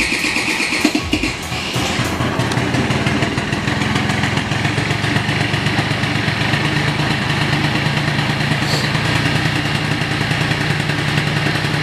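A bosozoku scooter fitted with a new carburetor and air filter starts and then runs at a loud, steady, buzzing idle close by for about ten seconds, with a brief squeal near the end.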